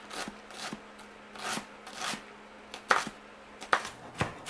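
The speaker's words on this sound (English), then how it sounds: "we're just gonna chop it finely and then throw the whole thing in there" A knife chops a medium red onion finely on a cutting board, giving a steady series of crisp, close taps with a few sharper knocks, heard alone without talk.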